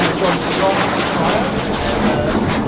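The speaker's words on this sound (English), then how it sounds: "Two generations of attack aircraft." Cessna A-37 Dragonfly attack jet at the Australian International Airshow, a loud, steady roar filling the whole stretch without letting up.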